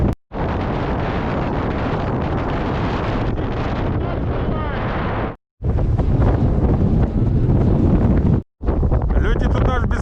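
Strong wind blasts across the frozen Kapchagay reservoir in winter, roaring loud and constant against the microphone, with two brief sudden drop-outs.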